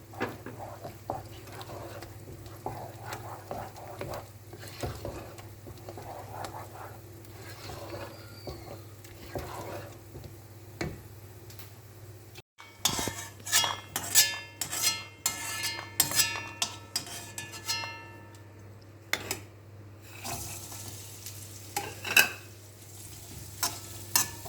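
Moong dal frying in a pan until golden brown for Tamil New Year pongal, a soft steady sizzle with occasional stirring clinks of a spoon against the pan, no voices.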